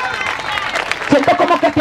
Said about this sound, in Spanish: Dale aplauso al Señor.